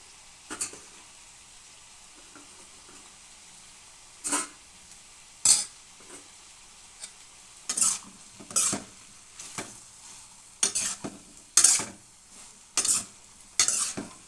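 Curry leaves going into hot oil with cauliflower in a home kitchen, heard as scattered bursts of crackling sizzle and stirring clatter, several sharp spikes over a quiet background.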